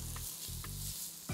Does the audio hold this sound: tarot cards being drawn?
no